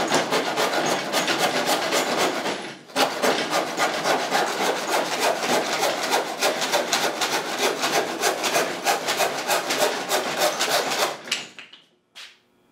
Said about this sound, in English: Literally, with a handsaw, I can do just as good as an electric powered saw.